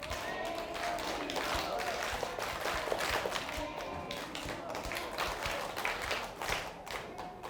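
Children at a science lecture in Gwangju, after a wooden lamp-building session, clap together with excited voices and shouting mixed in, a steady busy patter of hands filling the room throughout.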